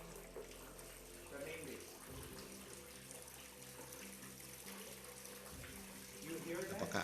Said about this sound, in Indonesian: Anda dapat melihat dan mendengar bahwa kecepatan air menjadi lebih cepat